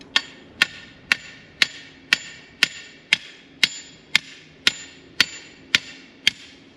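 Steady, evenly spaced hammer blows on a fence post ring out one after another, about thirteen sharp metallic strikes with no talking.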